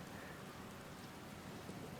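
Steady rain falls continuously in a video game, a dense even patter with a low rumble beneath it, filling the scene with no voices.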